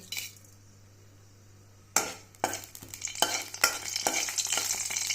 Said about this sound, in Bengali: এখানে শুকনো মরিচ আর সরিষা ফোড়ন দিয়ে দিচ্ছি